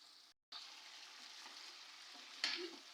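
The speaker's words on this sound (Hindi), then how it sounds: "पाँच से 7 मिनट के लिए मैं इसको ऐसे ही फ्राई करूँगी" Chicken gizzards and liver fry in a pan with a steady, fairly quiet sizzling hiss, briefly cut off near the start and then flaring louder for a moment near the end as the pieces are stirred.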